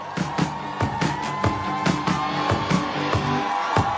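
An election rally crowd claps in a steady rhythm, sharp hand claps landing roughly every half second over a sustained musical tone and general crowd noise.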